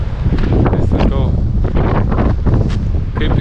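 Strong wind buffets the microphone by the Atlantic Ocean on the Spanish coast near a petrol station, loud gusty rumble and roar throughout, with voices talking over it.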